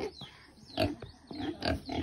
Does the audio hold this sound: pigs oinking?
yes